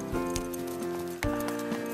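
A ridden horse's hooves clip-clop in soft irregular steps beneath a steady tonal hum, with a firmer thud partway through.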